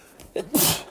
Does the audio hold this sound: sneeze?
yes